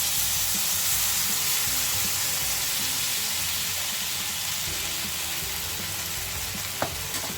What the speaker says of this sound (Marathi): इथे अजून एक सोडते डोसा.